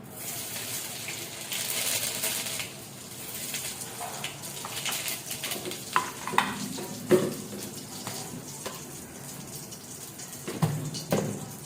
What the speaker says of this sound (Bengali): তেলটা গরম হয়ে গেছে, আমি দেবো একটু সাদা জিরে ফোড়ন।